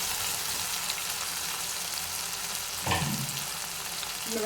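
Ground tomato paste tipped into a hot pan of oil for a Tamil kuzhambu, giving a steady close frying sizzle with a louder splash and burst of hiss partway through as the paste hits the pan.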